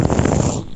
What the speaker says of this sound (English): I hear dogs and I hear deep breathing